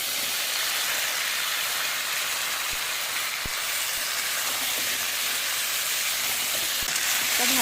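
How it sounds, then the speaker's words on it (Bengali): Taro and potatoes hit hot oil with lightly fried onions, giving a steady, loud, continuous sizzle and hiss close by with a few faint clinks. "কেটে ধুয়ে রাখা কচুমুখি আর আলুগুলো দিয়ে দিলাম"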